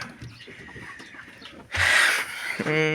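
A broody Kurt hen sitting on a clutch of eggs makes low, faint sounds at first, then breaks into a loud, harsh squawking burst followed by a short tonal cluck, close by.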